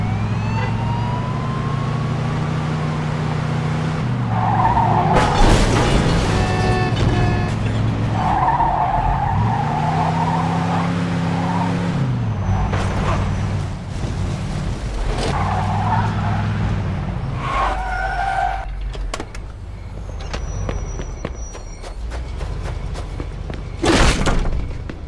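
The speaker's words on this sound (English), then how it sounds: "Pursuit of a speeding vehicle." Game-trailer car chase from Mafia 3: tyres skid and engines roar loudly amid a busy mix of crashes, a siren-like wail and dramatic score, with the chase pressing on throughout.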